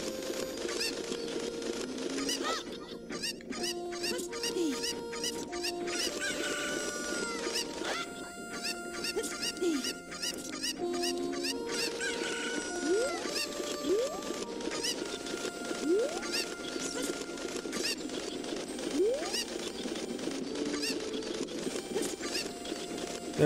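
Cucco chickens clucking and squawking in Zelda: Ocarina of Time, a busy run of bird calls and game sound effects layered over steady background music throughout.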